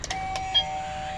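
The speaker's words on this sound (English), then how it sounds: "I told you about our new doorbell" A newly installed doorbell chimes two clear ding-dong tones, ringing out close and loud and fading over about a second.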